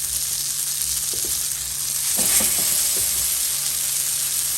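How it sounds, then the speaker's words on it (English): Uncooked cheese arepas sizzle in melted butter in a skillet, a steady soft frying hiss with a few light taps and scrapes near the middle, close and continuous. "add butter right on the top of your skillet so that you could lay on top your uncooked arepas"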